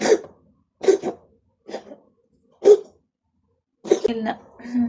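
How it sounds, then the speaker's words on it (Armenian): Several short, sharp coughs separated by pauses, close by, with a denser burst of coughing near the end. "հազում"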